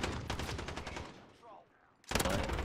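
Rapid automatic bursts from the FiNN LMG light machine gun in Modern Warfare, loud and close, with a brief pause before firing resumes at full intensity.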